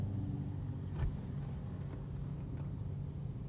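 A car sits in heavy Lahore traffic, with a steady low engine and road rumble throughout and a couple of faint passing vehicle swells.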